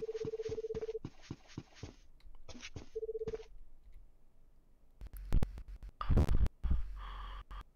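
In a video game, a telephone is dialed: bursts of quick, clear keypad tones in short runs, then a pause and some louder clattering and rustling noises.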